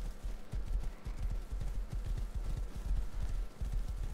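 Horse hooves clip-clopping in the video game Rust, a steady, fast run of close, loud hoofbeats continuing throughout without speech.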